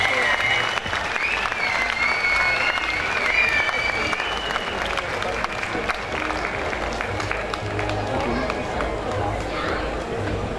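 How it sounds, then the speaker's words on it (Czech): A concert audience claps and cheers loudly to welcome a singer on stage, the applause dense and sustained throughout with crowd voices mixed in. "Poprosím o ten největší aplaus, který můžete dokázat udělat, pořádný humbuk"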